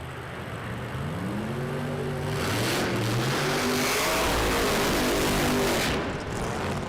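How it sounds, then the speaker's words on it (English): Pro Mod drag car doing a burnout on a drag strip, a loud engine revving with rising pitch and a roar that swells midway and then eases, heard from a distance. "Burnouts in Pro Mod"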